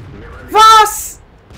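A single loud cannon-like blast from a T-62A tank in World of Tanks booms out after a quiet moment, with a ringing tonal burst and a short decaying tail.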